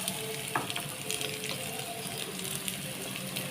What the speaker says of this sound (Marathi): आता मी कांदा घालते.